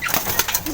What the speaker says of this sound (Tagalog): ibon natin na nawawala ng matagal nang nawawala sa atin